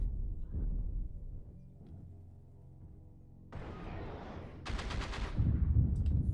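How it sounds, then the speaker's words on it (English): Gunfire in a squad-based video game match as a rocket launcher fires at an enemy UAV, heard as a burst of loud blasts and rattling shots that build toward the end, with chatter and game noise around them. "Did I hear a rocket launcher go at that UAV?"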